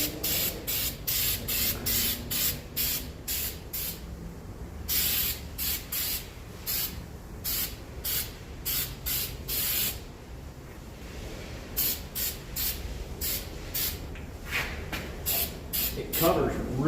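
Repeated short bursts of an aerosol can spraying weld-through steel paint onto a truck frame and GM solid-axle coil mount, steady hissing pulses in quick succession, close and loud.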